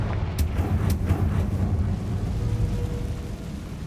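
Confringo fire spell from the Hogwarts Legacy video game: a deep, steady booming rumble with a few sharp crackles early on, loud and close throughout, with no voices.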